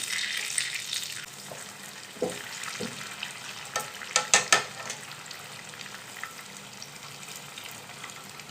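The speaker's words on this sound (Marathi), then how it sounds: "इथे आपण आता जे वडे सोडलेले आहे तेलामध्ये ते परतून घेणार आहे" Vadas, lentil fritters, fry in hot oil, giving a soft continuous sizzle with a few louder bubbling bursts and stirring clinks near the middle, close up, no talking.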